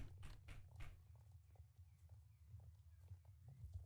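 Horse hooves clip-clop steadily as a horse is ridden in the game Star Stable, with soft, quiet, rhythmic steps over a low background hum.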